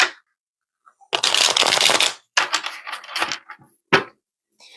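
Small tarot cards are shuffled close up in a dense, loud riffle lasting about a second, followed by lighter flicking and riffling bursts and a final sharp snap of cards.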